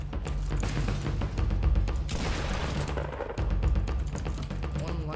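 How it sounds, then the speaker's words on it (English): Rapid bursts of gunfire crack through a shooting video game, dense and busy, with a louder burst of heavy fire near the middle and a steady low rumble underneath. "Well, we hear shots here."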